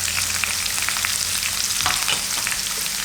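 Chopped onion and round-sliced green chillies sizzle steadily in hot oil for upma, a dense close crackle with light stirring scrapes and no talking.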